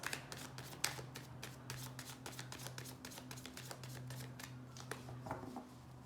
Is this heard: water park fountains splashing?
no